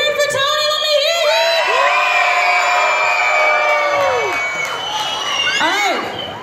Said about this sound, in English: if you're cheering for Tony, let me hear you